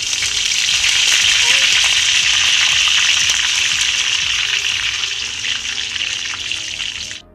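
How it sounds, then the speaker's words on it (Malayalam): Dried red chillies and curry leaves sizzle in hot oil with mustard seeds in a pan over low flame for a date pickle, a loud, steady crackling hiss that fades slightly before stopping. "എന്നിട്ട് വറ്റൽമുളകും കറിവേപ്പിലയും ഇട്ട് കൊടുക്കാം."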